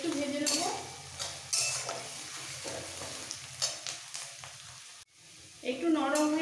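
Onions frying and softening in a pan, with a steady close sizzle and repeated spatula scrapes and clinks against the metal, briefly pausing before resuming.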